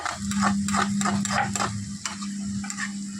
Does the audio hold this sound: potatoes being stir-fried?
yes